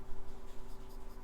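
A pencil sketching Captain America on paper gives a steady, soft scratching of continuous drawing strokes, close and fairly quiet, with no voices.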